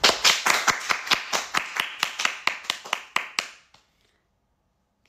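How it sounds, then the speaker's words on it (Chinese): A single pair of hands claps close by in a quick, even rhythm, about sixteen sharp claps over three and a half seconds during a livestream, then stops abruptly into silence. "给高考的人们一点掌声"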